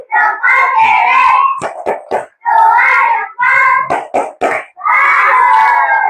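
Fourth-grade schoolchildren in an Indonesian classroom chant loudly in unison, broken by bursts of sharp, rhythmic group claps between the chanted phrases.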